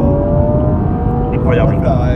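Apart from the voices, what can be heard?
BMW M135i engine accelerating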